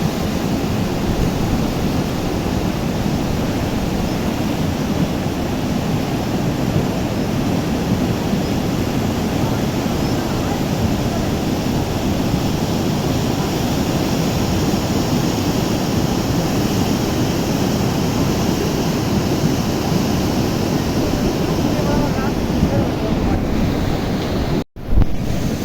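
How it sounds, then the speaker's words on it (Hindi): The Beas River in flood near Kullu Manali during July 2023 rushes past as a loud, unbroken roar of churning water mixed with wind buffeting, steady throughout until a brief cut near the end. "ब्यास नदी का कहर।"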